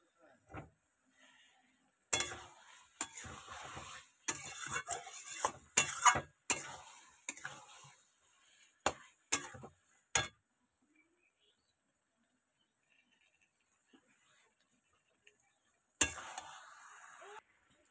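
Spatula clattering and scraping through tomato and mutton sautéing in a pan, in sharp irregular bursts over a few seconds, then near-silence, then one more brief burst of stirring.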